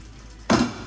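Fudge is stirred in a non-stick pot on the stove, producing a sudden loud scraping, sizzling swish after a moment of near-silence.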